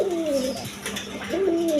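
Pigeons in a farm coop coo twice, close and clear, each call a soft rising-and-falling tone over steady faint background noise.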